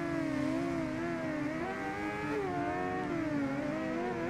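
Kawasaki Z1000 and rival bike engines race in RIDE 2, a steady, loud, continuous whine with pitch rising and dipping as the motorcycles rev and shift, no talking.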